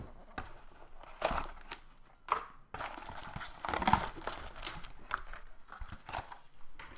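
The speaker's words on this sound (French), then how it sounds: "on va faire un petit déballage très rapide" A Samsung Galaxy Teos phone is unboxed, with close, quiet crinkling and crumpling of packaging in irregular bursts, some tearing and rustling, and brief pauses between handling sounds.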